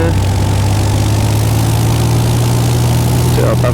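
A light aircraft engine throttled back to 1500 RPM drones steadily and loudly from inside the cabin, a constant low hum with no breaks.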